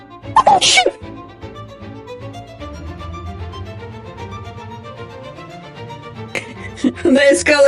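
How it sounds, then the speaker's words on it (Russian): A woman's sudden sneeze bursts out near the mic at the start and another at the end, with a sustained steady tone filling the gap between them. "ой, сейчас чихну."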